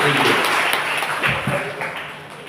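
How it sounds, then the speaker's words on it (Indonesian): A church audience gives a dense, steady round of applause for a young man at a Catholic talk. The clapping is close and fairly loud, fading gradually over the clip, with speech mixed in. "Kita beri tepuk tangan ya untuk anak muda ini"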